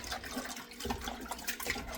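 Water splashes and trickles as it drains off chicken breast in a kitchen, a steady, close, moderately quiet pour with no talking.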